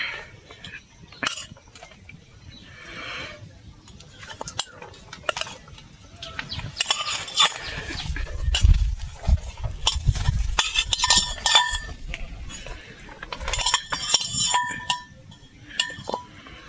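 A spoon clinks and scrapes against a bowl as hot eggplant is mixed into a paste, giving irregular close taps and stirring noises with quieter pauses between.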